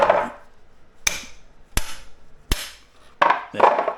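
Four sharp metallic hammer strikes knock out a rear sprocket bushing on a 2024 Triumph Street Triple motorcycle at uneven intervals, close and crisp, with brief scraping sounds before and after.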